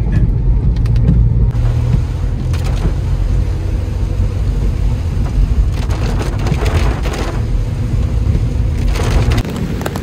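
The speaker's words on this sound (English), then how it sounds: "It's still raining very heavily." Heavy monsoon rain pours steadily near a Goa beach, a loud dense hiss over low rumbling, with a few sharper splashes and crackles scattered through, and no talking.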